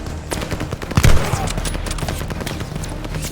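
Sustained machine gun fire in the Call of Duty Vanguard mission Operation Tonga, a loud, dense stream of rapid shots with a heavier burst near the middle, continuous throughout.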